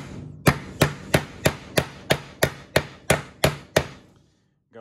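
Knipex hammer-style end cutters used as a hammer to drive a service entrance staple: ten sharp, evenly spaced metallic strikes, loud and close, each ringing briefly, with no talking.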